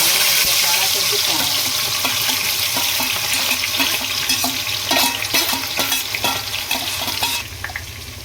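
Garlic fries in hot oil, giving a loud, steady sizzle close by, broken by scraping stirs and clinks of a utensil in the pan, with no voices.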